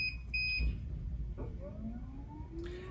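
Prius Healthcare Duet mattress pump sounding its power outage alarm: a few short, clear high-pitched beeps near the start over a steady low hum, followed by a faint rising electronic tone.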